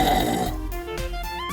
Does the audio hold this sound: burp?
yes